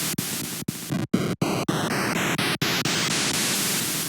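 A FamiTracker noise channel plays a chromatic scale: about a dozen short bursts of hissy static, each stepping up in pitch, loud and alone with no talk.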